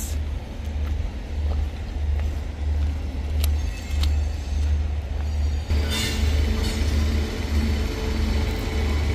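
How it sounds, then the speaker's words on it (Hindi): The Sarnath Express pulls out of platform five at Varanasi Cantt railway station bound for Durg, a steady loud rumble of rolling wagons with a low droning hum and occasional metallic clinks. "ये आप देख रहे हैं सारनाथ एक्सप्रेस पांच नंबर प्लेटफॉर्म से जाती हुई दुर्ग के लिए"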